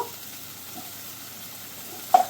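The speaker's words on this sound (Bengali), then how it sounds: "এবার মশলাটাকে আমি ভালো করে কষিয়ে নেব" Masala for butter paneer frying in a pan while being stirred, with a steady low sizzle and a sharper scrape of the spoon near the end.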